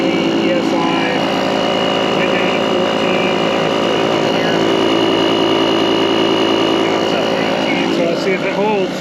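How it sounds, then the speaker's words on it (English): Air compressor running loud and steady to inflate a tractor tire punctured by a felled tree, a constant droning hum with a voice heard over it. "I have my air compressor."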